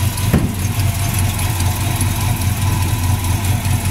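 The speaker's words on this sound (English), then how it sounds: "As far as your engine goes, it's a 283 with a 4-barrel carburetor." A 1965 Chevy Chevelle convertible's 283 V8 with a 4-barrel carburetor, headers and power steering idles steadily up close, a loud, even low rumble with a brief sharper tap near the start and no talking.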